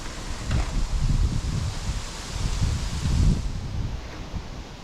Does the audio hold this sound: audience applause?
no